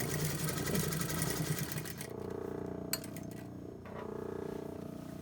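A sewing machine stitches a men's tailored shirt, a steady close mechanical whir that runs continuously, then stops and restarts with brief clicks between runs.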